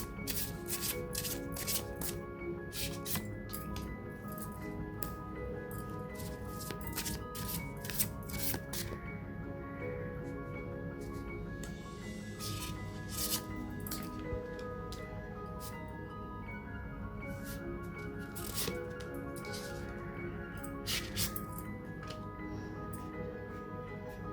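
Oracle and tarot cards being shuffled in a steady run of crisp riffles and flicks that stay close and even for the whole stretch, with no talking over them.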